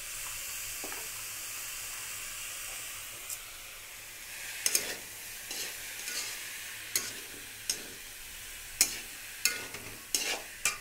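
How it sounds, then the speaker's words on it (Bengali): Banana flower curry fries with ginger and five-spice in a pan, a soft steady sizzle punctuated by a series of sharp stirring scrapes and taps in the latter half; no speech. "মোচার তরকারি চাপালাম, আদা পাঁচফোড়ন সামনে লঙ্কা টঙ্কা সব দিয়ে চাপিয়েছি"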